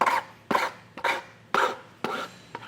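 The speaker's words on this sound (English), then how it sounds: "We're just going to take a file and get rid of some of this rough edging on the underbody panel here." A hand file rasps back and forth across the rough edge of an underbody panel on a 2016 Toyota Prius, with six distinct scraping strokes in a steady rhythm, close and clear, and no talking.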